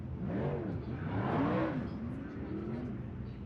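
A 360 cubic inch sprint car engine revs hard at a dirt track race, a loud sustained roar with rising and falling pitch sweeps, close and continuous throughout.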